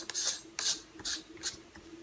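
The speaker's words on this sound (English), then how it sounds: "I take the 58 millimeter ring that comes with it and just screw it into the end of the" A threaded 58 mm adapter ring being screwed onto the end of a camera lens: four or five short, quiet metallic rasps in quick succession, close up, with no talk.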